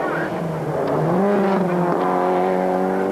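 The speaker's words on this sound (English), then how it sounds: "is the Mitsubishi Lancer of Pascal Smets" A Mitsubishi Lancer rally car roars past, its engine note rising and falling as it revs through the gears, loud and close, with a commentator's voice talking over it.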